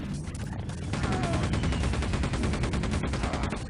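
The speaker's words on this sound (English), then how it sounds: "let's switch back to the old machine gun" Machine gun firing in Quake 2: a steady, rapid rattle of evenly spaced shots, loud and close, running unbroken through the whole stretch.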